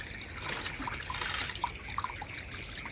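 Birds chirp in the trees at a wild campsite beside a waterfall after rain: a quick run of about eight bright, evenly spaced chirps over a steady rush of flowing water, with no voices.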